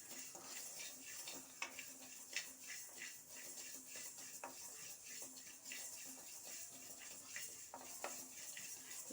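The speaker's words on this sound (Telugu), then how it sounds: "లో ఫ్లేమ్లో పెట్టుకొని కొంచెం ఎర్రగా వచ్చే వరకు వేయించుకున్నాము." Fenugreek seeds fry over a low flame while being stirred in a pan, a faint steady sizzle with light, irregular utensil scrapes and clicks throughout, no voices.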